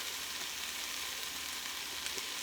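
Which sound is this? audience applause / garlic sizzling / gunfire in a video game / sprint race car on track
garlic sizzling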